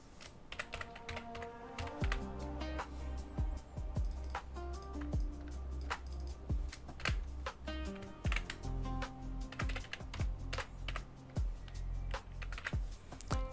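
Steady typing on a computer keyboard, a close run of crisp, irregular key clicks and taps continuing throughout at a quiet level.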